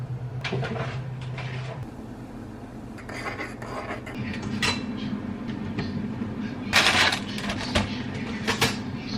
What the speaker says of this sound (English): Train after train go by